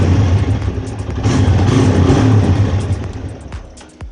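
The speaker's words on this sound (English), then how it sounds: "The engine is gonna keep on cranking, but the bike won't start." A motorcycle engine cranks repeatedly without firing, a close, loud mechanical churning that holds steady for a few seconds before cutting off, with no voices.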